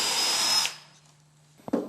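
A power drill boring 11/64-inch holes into a wooden door jamb for a deadbolt template: a loud, close drilling burst that cuts off abruptly, a faint hum, then a short knock or two at the end.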